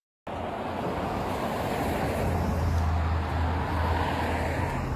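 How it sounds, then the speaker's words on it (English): Steady roadway traffic roars at the roadside, a loud continuous wash of passing cars with a low engine rumble and wind buffeting, starting abruptly after a brief silence and holding level throughout. "I couldn't really hear you with the traffic"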